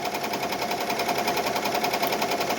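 A Ricoma EM1010 embroidery machine stitches a t-shirt sample, a steady, fast mechanical rattle with an even needle rhythm running close and loud throughout, with no voices.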